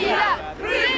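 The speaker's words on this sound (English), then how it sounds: "the crowd still blocked them, shouting this time, "The Crimea is Russian."" A crowd shouts and chants in loud, overlapping voices around the UN envoy's car in Crimea, two surges of massed yelling with a brief dip between them.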